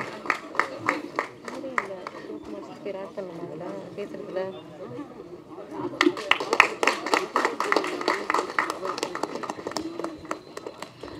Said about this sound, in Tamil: ஒரு பலத்த கைத்தட்டலோட அவங்களை அழைச்சிடலாம்